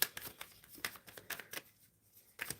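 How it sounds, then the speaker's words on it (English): A deck of tarot cards is shuffled close by, in a quick series of crisp riffling bursts with short pauses between them. "I'm shuffling for Bex again."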